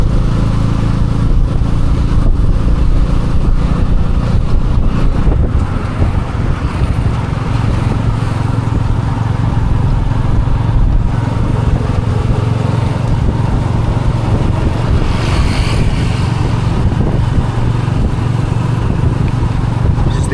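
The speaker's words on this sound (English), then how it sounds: "So there's quite a bit of traffic" Busy city street traffic in Cambodia, heard from a moving tuk tuk, with a continuous loud rumble of motorbike and small engine noise surrounding the ride, steady throughout.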